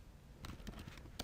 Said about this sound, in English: Excuse my poor typing skills here.